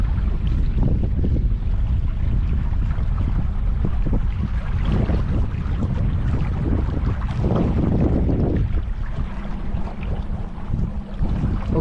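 Strong, steady wind roars across the microphone during a boat ride at Hoover Dam, with a low engine and water rumble underneath throughout and no talking.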